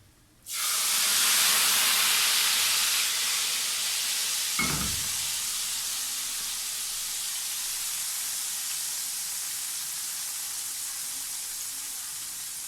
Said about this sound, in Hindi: लगा देंगे हम अपनी कड़ी को तड़का।